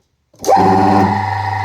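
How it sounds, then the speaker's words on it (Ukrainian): Single-phase 0.75 kW electric motor with three leads, started on a 40 microfarad capacitor: after brief silence it spins up within a fraction of a second into a steady, loud hum with a rising whine that settles into an even tone. "Як бачимо, двигун запускається чудово."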